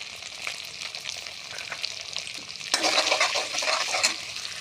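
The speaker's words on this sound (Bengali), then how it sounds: "তারপর দিয়ে দেব আদা বাটা, দিয়ে নাড়তে থাকবো।" Ginger paste fries in a pan as it is stirred, a continuous close sizzle that turns brighter and louder partway through, with scattered scrapes of the spoon and no talking.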